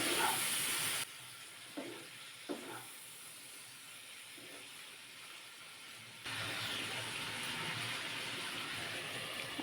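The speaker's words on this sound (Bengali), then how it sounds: "ঢাকনা চাকা দিয়ে দিলাম দশ মিনিট স্টিম করে নিলাম" Chicken dal steams under a lid in a cooking pot, giving a steady broadband hiss that drops to near quiet with a few soft clicks in the middle, then swells back to a constant hiss.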